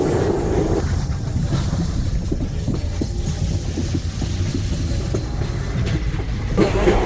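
Train rolling over the Farakka bridge in India, a steady dense rumble with rhythmic clunks of wheels over rail joints throughout, heard close from inside the carriage.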